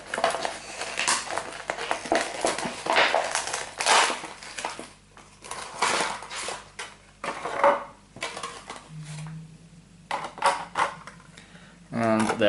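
Plastic blister packaging of a Star Wars X-Wing Fang Fighter miniature being cut open, with loud crackling, crunching and snipping bursts close by, irregular and harsh, pausing briefly between cuts.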